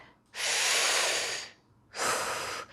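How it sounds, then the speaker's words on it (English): Two long, slow breaths, in and then out, each a close, airy rush lasting about a second, with a short pause between them. "you breathe in"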